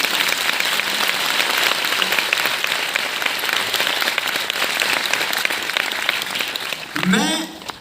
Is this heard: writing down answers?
no